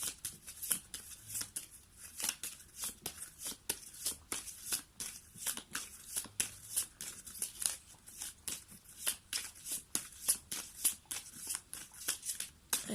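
Cards being handled and shuffled for a card reading, a quiet, rapid series of crisp riffling flicks and papery snaps repeating irregularly throughout, close to the listener with no talking.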